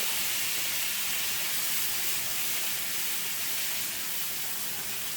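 Shrimp flash-cooking in a very hot pan for keto fried cauliflower rice, a dense continuous hissing sizzle, loud and close, with no pauses or voices.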